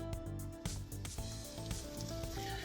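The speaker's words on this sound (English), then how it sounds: "we're going to saute up those onions and celery until they get, until they start to soften up a little bit in our butter" Onions and celery sauté in butter for a seaside crab casserole, making a steady close sizzle and crackle that runs throughout, with a constant tonal background layered over it and no speech.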